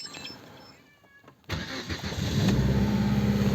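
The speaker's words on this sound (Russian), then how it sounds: "сейчас сразу запущу двигатель" A car engine cranks and fires at minus twenty degrees in snow, a quiet lead-in giving way to a sudden loud catch at about 1.5 seconds and then a steady, rising cold idle with no talk.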